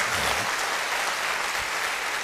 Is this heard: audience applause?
yes